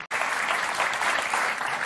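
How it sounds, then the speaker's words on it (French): Supporters applauding in the beIN Sport studio after a France versus Belgium match, a dense steady clapping that starts abruptly after a brief silence and holds evenly loud throughout. "Kylian, vous êtes applaudi par les supporters qui sont sur le plateau de beIN Sport"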